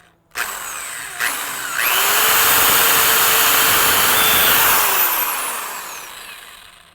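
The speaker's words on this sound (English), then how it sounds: "I'm using a hammer drill because that's what I'm going to need for the next step" A hammer drill bores into a deer skull, starting with a few short bursts and then settling into one loud continuous whine and grind for several seconds before winding down.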